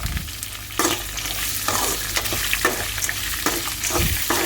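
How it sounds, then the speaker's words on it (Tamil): Chopped onions and green chillies sizzle loudly in a pan for semiya upma, with a spoon stirring and scraping through them in repeated sweeps over the constant frying hiss. "எல்லாத்தையும் சேர்த்து நல்லா கிண்டி விடுங்க. ஆனியன் நல்லா வதங்குற அளவுக்கு நல்லா வந்துட்டு கிண்டி விடுங்க"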